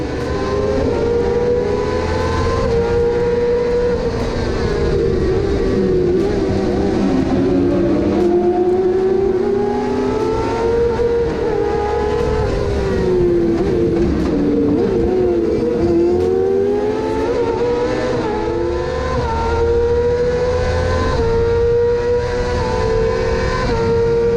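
Race cars at a drag racing event roar loudly and continuously, engines revving and shifting in pitch as they pass close by, with a sustained, steady mechanical drone throughout.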